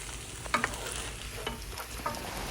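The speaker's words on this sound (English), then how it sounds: "I'm going to give it a really good stir and make sure everything is mixed together and combined and melted in" Cauliflower gnocchi with chicken sausage and grated Parmesan stirred in a pan, with a few clicks of the utensil over a low, steady sizzle and scraping.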